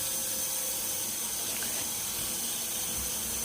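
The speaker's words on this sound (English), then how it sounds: "Wash my hands." Hands washed under a running kitchen tap while making chicken lasagna, a continuous close hiss of flowing water throughout.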